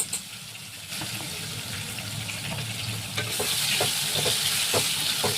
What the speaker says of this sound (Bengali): আমি অল্প একটু রসুন বাটা দিয়ে দিচ্ছি।